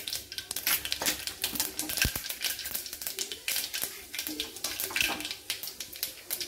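Mustard seeds and cumin crackle in hot oil with quiet, irregular pops and sputters that go on continuously.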